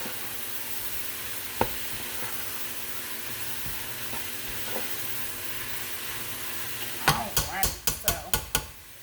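A pan of food simmers with a steady low sizzle and a few faint clinks, then ends in a quick run of sharp spoon taps against the pan.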